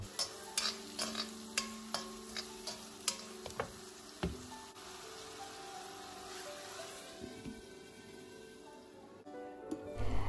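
Prawns and chopped onion sauté with salt in a pan, a soft sizzle under a run of sharp spatula clicks and taps against the pan that come in a quick rhythm, then thin out into quieter frying.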